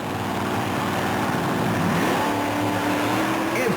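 Original monster trucks at a 1991 USHRA race in Tampa roar together at the start, a dense, loud, continuous engine rumble with rising revs, a crowd-and-announcer wash beneath.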